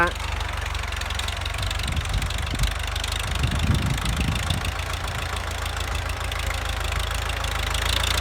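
A raised-height Ford 5000 tractor idles with a steady low rumble and slight knocking throughout, nearby, as someone talks over it at times.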